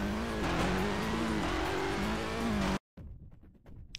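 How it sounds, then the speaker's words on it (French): Rally car engines in the Xbox video game Rallisport Challenge, a loud sustained engine drone with shifting pitch that cuts out abruptly, then returns as quieter, scattered engine and gravel noise. "Alors le son des voitures, je trouve correct."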